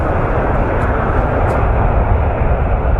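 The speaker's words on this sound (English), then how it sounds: "he's just landed by the sounds of it." Loud, steady roar of an Airbus A350 that has just landed, close by, a broad rumbling drone that holds level throughout, on or near the runway in fog.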